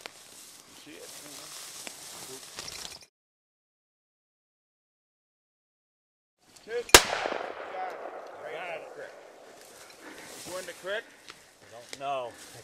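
A single sharp shotgun blast during a grouse hunt cracks out loud and close, and the sound of people talking comes before and after it.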